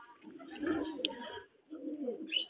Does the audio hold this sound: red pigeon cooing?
yes